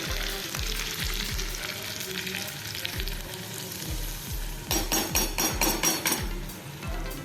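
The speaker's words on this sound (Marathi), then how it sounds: "त्यानंतर दोन आपण लाल मिरच्या घालायच्या आहेत ते थोडंसं आपण मिक्स करूया आणि हा तडका आपण आमटीवरती घालायचा आहे" Hot tempering with red chillies is poured onto curry, giving a steady crackling sizzle with a run of regular low knocks and louder spitting bursts near the end.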